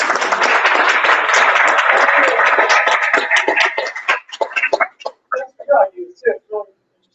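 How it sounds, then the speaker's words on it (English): Indoor group applause at a language learning meetup, a dense burst of clapping that thins into a few scattered claps and fades out, with a voice rising over the tail. "Can we give David a round of applause?"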